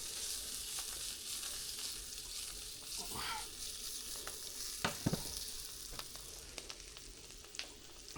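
Sirloin steak searing in butter in a hot pan, a steady close hiss and crackle with a few sharper pops and spits.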